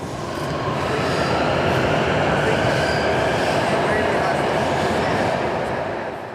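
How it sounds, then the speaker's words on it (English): Fully autonomous metro train running in Taiyuan, China, a loud, steady rumble of wheels and carriage noise heard from on board, with faint talking underneath. "the main thing about this metro, which is different to some of the older metros in and around China, is it's fully autonomous"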